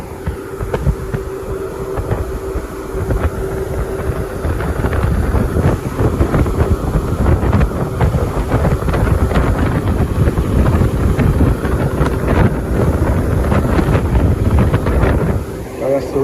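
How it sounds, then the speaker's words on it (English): Strong, steady wind roars and buffets the microphone throughout beside a commercial HVAC unit, a continuous low rumbling rush with no break. "That's a really strong breeze going on."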